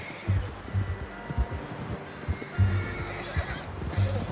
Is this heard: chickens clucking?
no